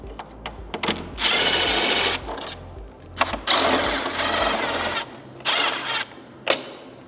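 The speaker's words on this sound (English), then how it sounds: "I'm going to remove the 2 screws down low" Power driver backing screws out of a Harley CVO motorcycle fairing: repeated bursts of whirring motor, each lasting about a second, with brief clicks and short pauses between them, close and fairly loud.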